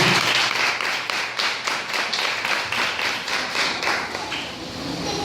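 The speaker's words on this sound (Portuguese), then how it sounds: "Aplauda mais uma vez o Senhor." Congregation applause in a church service, rhythmic unison clapping with distinct, evenly spaced beats, close and fairly loud, gradually loosening into scattered claps toward the end.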